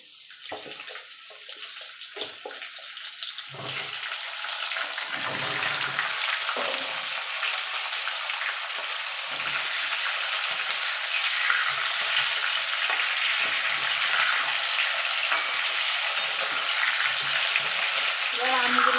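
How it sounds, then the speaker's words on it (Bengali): Raw mango pieces frying in hot oil with panch phoron for pickle, a loud steady sizzle that rises after a few seconds and hisses on continuously, with brief talk near the start. "একটুখানি ভালো করে একটুখানি ভাজা ভাজা করে নেবো যাতে আমের ভিতরে যে রসটা আছে সেটা টেনে নেবো"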